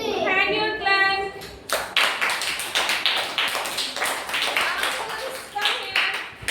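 A child claps their hands in a steady run of sharp, close claps that keeps on after an adult voice speaks at the start.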